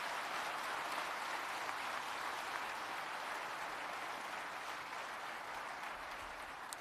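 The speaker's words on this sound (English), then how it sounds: "please give the presidential panel a" A summit audience applauds the presidential panel, a faint and distant even wash of clapping that carries on steadily for several seconds in a large hall, with no talking heard over it.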